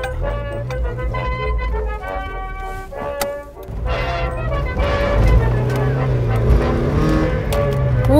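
A Mk1 Mazda Miata MX-5 classic car drives over an uneven, bumpy road, its engine droning loudly from inside the cabin and rising in pitch as it picks up speed.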